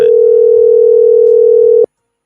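A steady telephone dial tone hums loud and unbroken during a callback on a live pregame sports show, then cuts off sharply, leaving silence with a faint click at the end.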